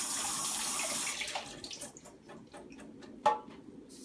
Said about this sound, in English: Rinse those off as well. A nice little rinse with some cold water.